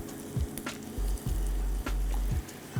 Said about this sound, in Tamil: ஸோ இதோட இப்போ 1 கப் முட்டைக்கோஸ் வந்து உள்ளே சேர்த்துருவோம்